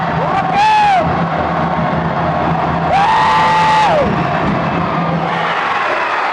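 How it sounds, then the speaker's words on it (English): A basketball crowd at a high school boys' game, tied late in the fourth quarter, roars steadily throughout, with loud whoops and shouts that swell twice. "Listen to the crowd. Listen to the crowd."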